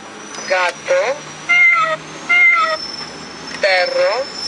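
Recorded cat meows come from a children's learning toy telephone, five short close-up mews in a row with brief pauses, clear and loud over a faint electronic hum.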